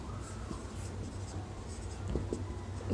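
A pen scratches faintly and continuously across paper during a class 11 straight-line math lesson, over a low room hum.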